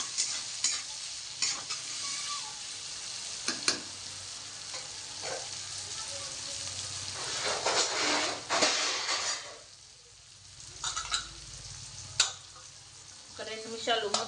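Curry leaves crackle and sizzle in hot oil for an Andhra fish curry, with repeated spoon scrapes and stirs against the pot over a steady frying hiss, close by and without talk.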